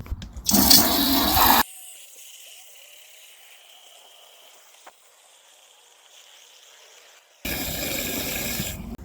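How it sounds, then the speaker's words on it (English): Water from a garden hose controlled by a Sonoff smart valve gushes in two loud hissing bursts, one near the start and one near the end, separated by a quieter stretch with faint trickling and background hum. "the water from the hose should go for 1 minute"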